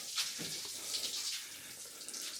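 Fuel leaks from a car engine's injectors, making a steady liquid hiss and trickle like a running tap, moderately close and continuous with no talking.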